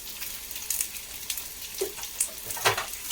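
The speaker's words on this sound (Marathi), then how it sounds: "वांगी बटाटे चांगले तेलामध्ये परतायचे आपण" Eggplant and potatoes frying in oil make a soft continuous sizzle, with several brief clinks and scrapes of stirring standing out above it, close by and fairly quiet.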